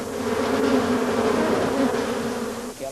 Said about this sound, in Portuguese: Aqui é possível observar o comportamento das abelhas.